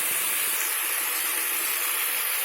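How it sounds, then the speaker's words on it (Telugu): Barbati long beans fry in a pan with salt and turmeric, giving a loud, continuous hissing sizzle that stays steady and close from start to finish, with no speech. "అది వేయించుకుందాం."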